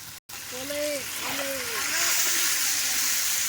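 Some three kilograms of chicken frying in the fat rendered from the meat, cooked over a wood fire, giving a continuous splattering sizzle that stays steady beneath intermittent talking.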